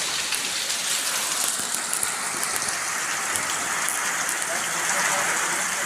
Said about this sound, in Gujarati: તો પહેલાં તમને વરસાદ બતાવું કેવો આવે છે